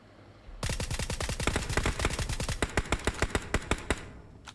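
Automatic gunfire in PUBG Mobile fires in one long rapid burst of sharp, evenly spaced shots, loud and close, that slows into a few final rounds before stopping.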